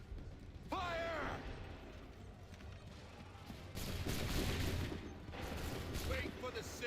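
Ragged volley of muskets fired by a line of soldiers in Assassin's Creed III. Several sharp, overlapping bursts crackle in clusters over a busy battlefield background, with a shouted command heard early on.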